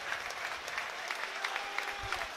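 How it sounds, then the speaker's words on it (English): Falkirk's travelling supporters at a football stadium clap as the teams walk onto the pitch, a faint, distant ripple of applause with scattered louder claps and crowd murmur. "Warm round of applause from what looks to be a very healthy Bairns travelling support down in front of us"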